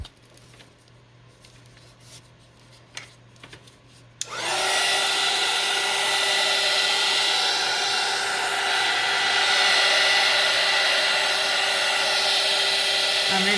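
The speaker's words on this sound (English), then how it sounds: "Grab my heat tool." A craft heat tool switches on abruptly after a few quiet handling taps and then blows a loud, steady whooshing hum without a break while drying mixed media paint.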